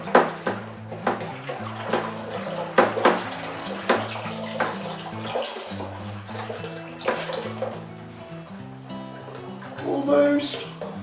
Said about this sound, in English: I'm going to give it a good stir. Make sure all our grape concentrate is mixed in with all our clean water.